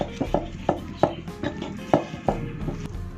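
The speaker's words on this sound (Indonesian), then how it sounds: "kita ulek sampai dengan merata." Sambal with shrimp paste being pounded in a mortar with a pestle, a quick run of about a dozen sharp thuds and knocks in an uneven rhythm, close and alone.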